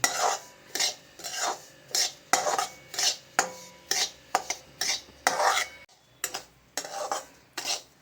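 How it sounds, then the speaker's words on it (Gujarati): Semolina roasts in ghee in a pan while a spoon scrapes and stirs it in regular rhythmic strokes, each a short gritty rasp with metallic clinks, up close and without talk. "આ રીતે ઘીની અંદર સોજીને શેકીશું."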